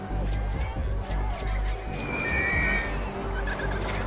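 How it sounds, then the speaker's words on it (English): Ducks on the track of a RollerCoaster Tycoon coaster give repeated, nasal quacking calls in short bursts, fairly close, over a busy background of park noise. "There are ducks on the coaster."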